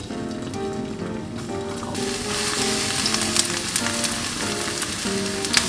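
Garlic sizzles steadily in a hot pan for garlic shrimp rice, a continuous close crackling hiss of frying that grows a little louder partway through, with faint clinks of a utensil.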